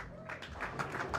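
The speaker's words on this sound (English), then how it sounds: "A big round of applause for our second semi-finalist runner-up, Mickey Kraus, Can Salim." An audience at the final day of the Mezz Bucharest Open pool tournament applauds the runner-up, a short burst of diffuse clapping that blends with crowd noise and a voice.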